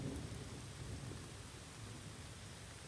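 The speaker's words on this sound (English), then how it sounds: "Here outside is raining." Steady, dense hiss of rain falling outdoors during a category 1 cyclone, continuous and even throughout with no voices.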